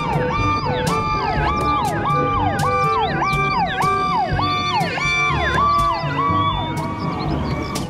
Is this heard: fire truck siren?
yes